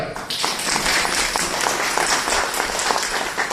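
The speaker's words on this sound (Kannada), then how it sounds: "ಅವ್ರಿಗೊಂದು ದೊಡ್ಡ ಚಪ್ಪಾಳೆ" Steady applause from guests at a Sankranti celebration with municipal workers in a party hall, dense continuous clapping throughout at even loudness, close and full.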